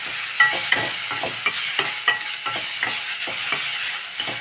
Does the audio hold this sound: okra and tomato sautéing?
yes